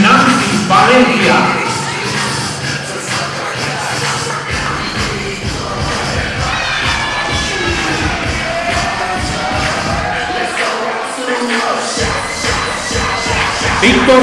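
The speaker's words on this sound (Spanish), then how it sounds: "Nos preparamos con el aplauso para recibir a Iván de la Fuente y Nancy Valencia" Audience applause and cheering at a live event as couples are introduced, a dense, steady wash of clapping and crowd noise that continues loudly throughout.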